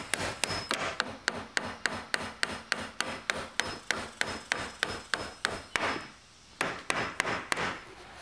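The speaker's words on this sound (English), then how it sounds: "These are 2-inch casing nails that I'm using, and we need to put about 10 of these in here to securely attach this stool." 2-inch casing nails hammered into a wooden window stool, about two dozen sharp, evenly paced hammer blows struck up close, broken by one short pause before the strikes resume.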